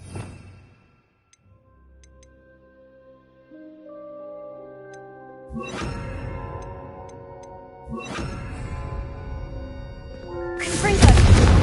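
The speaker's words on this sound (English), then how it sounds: "I think you'll find that a Confringo cast travels a bit farther than that of a spell like Incendio" Confringo spell blasts strike candelabras in the Hogwarts Legacy video game, several loud booming impacts with ringing metallic tails, the last one the strongest and harshest.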